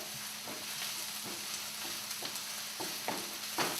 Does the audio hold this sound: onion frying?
yes